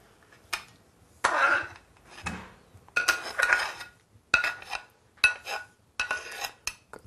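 Eggplant and zucchini lifted out of an oily frying pan with utensils, bursts of metallic scraping, clinks and pan knocks in uneven clusters, close and fairly loud, with no speech.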